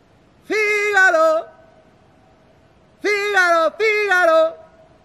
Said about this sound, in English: Listen to that echo.